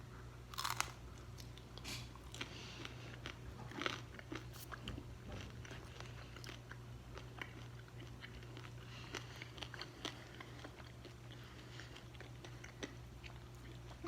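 Crunchy chewing and biting of a honey-topped cooked vegetable chip, steady close crunches with sharper bites through a constant low hum, no talk.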